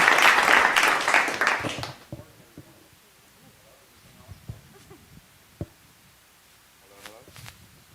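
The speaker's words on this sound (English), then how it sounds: "Round of applause" A burst of applause from a crowd for about two seconds fades out, leaving quiet room noise with scattered footsteps and shuffling.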